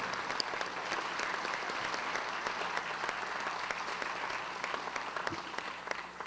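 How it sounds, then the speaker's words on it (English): Applause from the crowd at a school district awards ceremony for the Legacy Award winner, continuous dense clapping from many hands at a steady, moderate level throughout. "Let's give another round of applause for our Legacy Award winner, Mont L. Millerberg."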